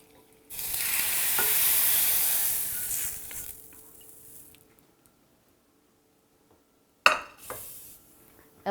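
Spices for tomato rasam hit a hot pan with a loud sizzle that fades over several seconds, followed by silence, then a sharp scrape and a short stir against the pan.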